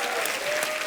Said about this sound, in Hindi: जोरदार तालियां हो जाएं आपके लिए